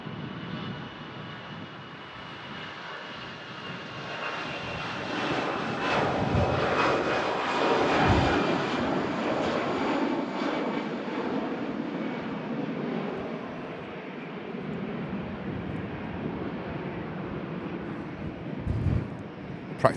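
A Swiss airliner jet, about 28 years old, taking off at Manchester Airport, with a loud sustained engine roar that swells toward the middle and holds steady, with some wind noise over the microphone.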